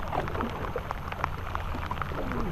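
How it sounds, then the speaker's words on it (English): Rain begins falling outdoors during a stormy offshore fishing trip, a steady soft hiss dotted with scattered sharp droplet taps, moderately close and unaccompanied by voices. "here comes the rain again"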